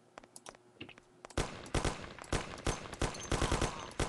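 Rapid gunfire in the video game Mafia comes while the character runs, starting with a few scattered shots. It then turns into dense, loud bursts of repeated cracks.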